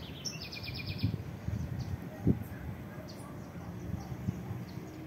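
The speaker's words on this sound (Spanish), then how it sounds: "Los dejamos con el cantar de los pajaritos y con este fuerte viento que azota esta tarde" Small birds chirp in short, repeated high bursts on an October afternoon outdoors, fairly distant, over a continuous rushing bed of strong wind and occasional low thumps.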